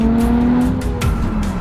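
Loud, steady engine drone from a car with a throaty stock exhaust note, revving slightly, with a faint tire squeal mixed in and no talking.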